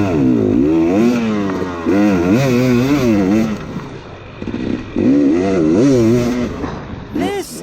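A motocross dirt bike takes off for an enduro woods test, its engine revving up and down in repeated rising and falling bursts, loud and close, with a brief lull midway.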